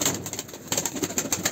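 A young pigeon beats its wings up close, giving a rapid series of soft fluttering flaps in short bursts with brief pauses between them.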